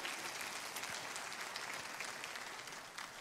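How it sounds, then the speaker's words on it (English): Audience applause greets a guest walking onto a stage, a continuous wash of many hands clapping at moderate distance, fairly quiet and even throughout. "We can applaud him as he comes out."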